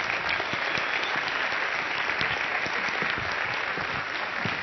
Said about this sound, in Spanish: Recibamos con un fuerte aplauso, con la calidez tijuanense que nos caracteriza